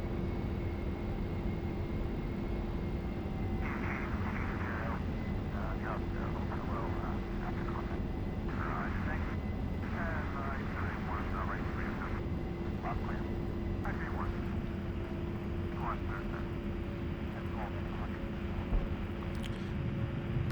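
Aircraft engine droning after landing in the DCS flight simulator, a steady loud hum with a constant tone under frequent talk.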